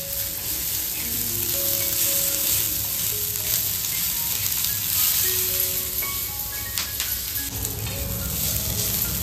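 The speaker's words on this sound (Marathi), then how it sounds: "आता एक खडे मसाला ते पण ह्याच्यात भाजून घ्यायचं" Whole spices roasting with onion in a pan on a home stove make a continuous close sizzle and crackle, with brief stirring scrapes and no talk.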